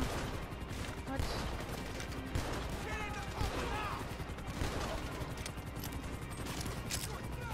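Golden double-action revolver shots in the video game GTA 5 Online, a dense run of loud gunfire bursts over game noise, with players talking over it.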